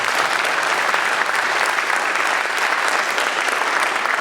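Audience applause at a mayoral candidates forum, a dense, loud, even wash of many hands clapping that holds steady from start to finish with no pauses.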